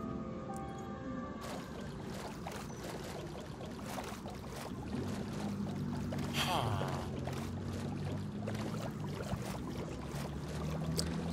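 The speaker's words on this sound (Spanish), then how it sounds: "ya aquí nada más me queda remar hasta llegar" Paddling a rowboat along a river in Minecraft, with steady splashy water strokes and a continuous lapping wash running throughout at moderate level.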